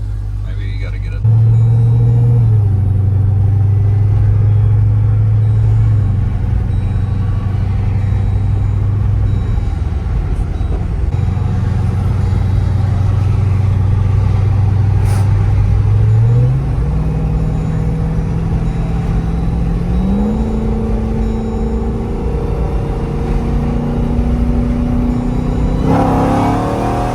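A car drives steadily with a continuous engine hum that climbs in pitch through several gear changes, loud and close from inside the cabin, with people talking over it.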